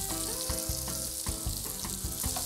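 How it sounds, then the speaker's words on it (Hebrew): Unwashed wheat grains fry in a pot over lowered heat, giving a steady, dense sizzle and crackle with small shifting pops throughout and no talking. "ואני פשוט מתחיל לטגן את החיטה"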